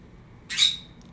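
A pet bird gives a single short, sharp squawk imitating a sneeze, close and loud against a quiet room.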